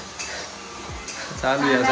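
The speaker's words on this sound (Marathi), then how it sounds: "आता कांदा असा परतून घ्यायचा." Onion being sautéed in hot oil in a home kitchen while masvadi is prepared, a steady sizzle with stirring scrapes and clinks of a pan, and someone speaking briefly over it near the end.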